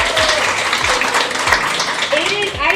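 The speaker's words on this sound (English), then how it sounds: "Can we just give her a round of applause?" An audience gives a round of applause, a dense, loud wash of clapping that fills the moment while a voice talks over it.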